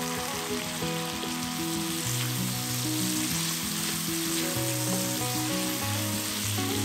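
Pork belly stir-frying in a wok with rice wine and soy sauce for a braised pork and preserved mustard greens dish, giving a loud, steady sizzle and crackle throughout with no voices.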